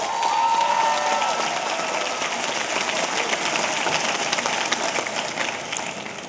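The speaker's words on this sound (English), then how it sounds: "you guys should give yourselves a round of applause" Graduates applauding at the Queensborough Community College 2015 commencement ceremony, a dense, sustained roar of many hands clapping in a large hall that fills the whole stretch and fades slightly at the end.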